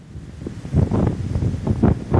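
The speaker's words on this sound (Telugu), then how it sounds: "సముద్రపు అలలు ఇటు పక్క చూసుకుంటే" Sea waves wash onto a monsoon beach in North Goa, surging and receding in broad, rushing swells mixed with gusty wind noise on the microphone, with no voices.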